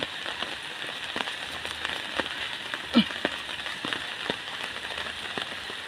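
Steady rain falls outdoors in the early morning, a dense even hiss scattered with sharp nearby drips and patters, one louder drop standing out midway, with no voices.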